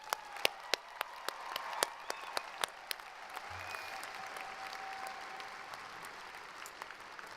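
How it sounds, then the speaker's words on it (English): Applause at the 2019 University of Idaho spring commencement opens with sharp, separate claps close by, then thickens into a softer, steady rush of many hands spread across a large hall. "Let's give them one more round of applause."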